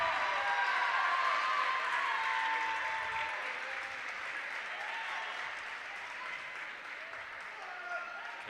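A crowd at a varsity basketball game in a sports hall claps and cheers as the teams come onto the court, sustained applause that swells early then gradually thins, with a voice talking over it.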